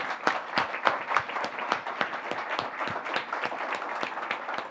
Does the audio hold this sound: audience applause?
yes